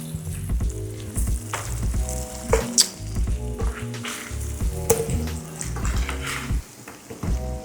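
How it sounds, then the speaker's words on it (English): Food sizzles and crackles steadily in a hot pot as corn, potatoes and sausages go in for a crab boil, with a low hum and occasional clinks underneath. "Sizzling, I'm gonna put one corn"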